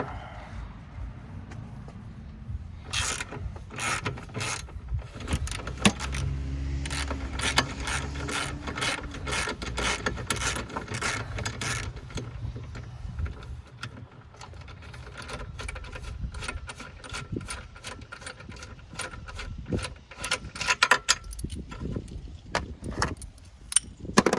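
A ratchet wrench clicks rapidly as intake fasteners are loosened on a BMW 650i with the N63 engine, with close, repeated bursts of ratcheting and occasional metallic clanks of tools.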